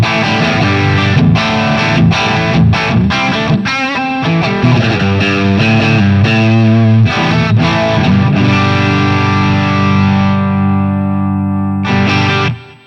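Electric guitar through a REVV Tilt overdrive pedal, gain at half then at full, plays loud distorted chords and riffs that ring into a sustained chord before a final burst, with no talking.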